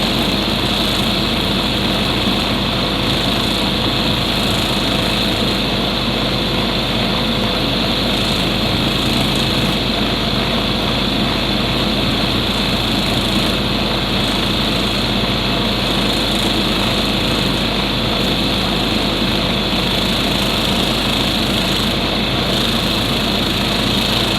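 Polishing machine doing the final polish on an opal stone, heard as a dense, constant, loud motor whine with a broad hiss, unbroken and without talk.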